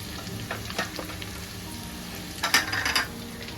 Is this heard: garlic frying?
yes